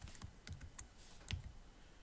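Soft, close keystrokes on a computer keyboard come as a handful of quick, irregular taps with no voice over them.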